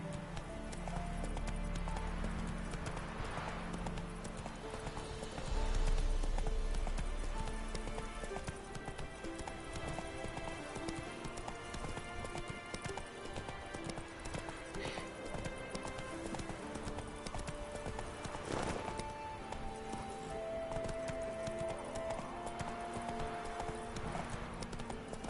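Roach the horse gallops in The Witcher 3, hooves drumming out a quick continuous clip-clop rhythm over game music, with a louder swell early on and occasional snorts.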